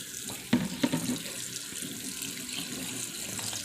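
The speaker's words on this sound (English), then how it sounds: "Just going to fill this back up with cold water." Cold tap water running into a pot in a home kitchen, a steady rushing flow with a few louder splashes early on, close by and alone with no voices.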